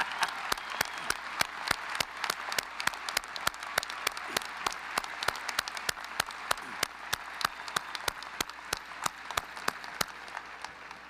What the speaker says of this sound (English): Hey, you mothers, we want to clap you.